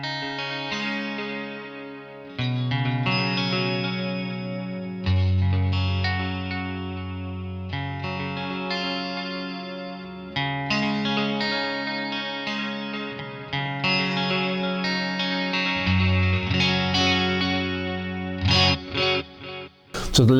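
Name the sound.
guitar through Pigtronix Echolution 3 modulated quarter-note delay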